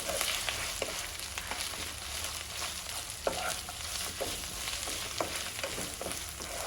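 Mutton pieces frying in a pan for pulao, a quiet, steady sizzle broken by occasional stirring scrapes and clinks, close-up and without speech.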